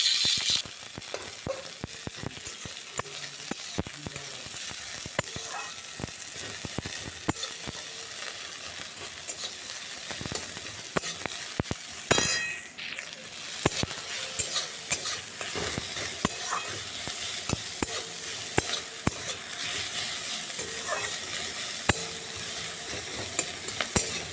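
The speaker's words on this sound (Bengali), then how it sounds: "পেঁয়াজ আর কাঁচা লঙ্কা ভাজা হয়ে গেছে" Onion and green chilli frying in a pan for Maggi noodles, a steady close sizzle with frequent stirring scrapes and clicks throughout, no talking.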